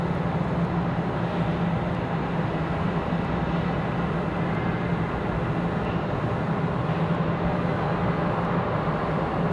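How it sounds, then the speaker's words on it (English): A small CRJ regional jet arriving at Raleigh-Durham airport gives a steady, even roar of engine and rushing air that holds at a constant level throughout, with no voices heard. "The little CRJ making their way in here."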